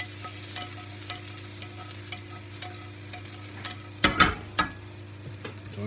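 Kale, mushrooms and pancetta are stirred in a hot frying pan for a partridge dish: a steady close sizzle with regular soft scrapes and clatters of the spoon, and a louder burst of stirring toward the end.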